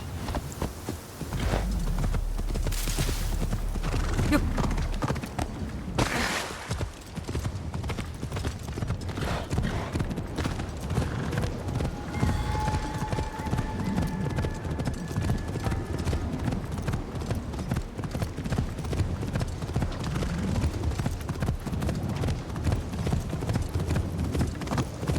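Horse hooves of scout units in a video game clip-clop steadily for the whole stretch, a dense, continuous trot with occasional faint whinnies and brief louder bursts near the start.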